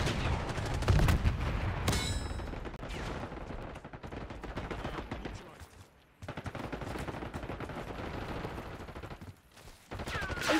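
Continuous automatic gunfire from a Call of Duty Black Ops 6 multiplayer match on the Derelict map, with MP5 bursts, rapid cracks layered with other weapons in dense, sustained volleys and brief lulls.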